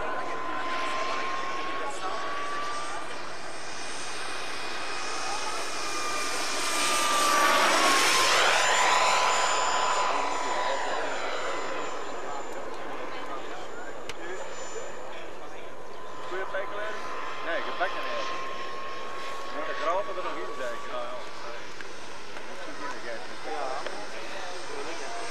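A model airplane jet turbine engine from 1992 whines steadily at a high pitch, swelling louder and sweeping past midway through as the aircraft passes, then holding a thin, distant whine.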